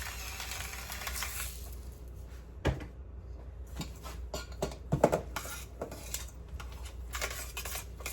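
A spoon stirs macaroni and tuna salad seasoned with Himalayan salt in a bowl, giving soft scraping and sporadic clinks and taps at close range, with no talk.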